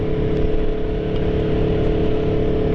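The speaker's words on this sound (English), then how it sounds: "I'm on the new bike, 2024 V4 Tuono Factory" A 2024 Aprilia Tuono V4 Factory motorcycle under way on the road, its engine blending into a loud, steady roar of wind and road noise that holds constant throughout, with no talking.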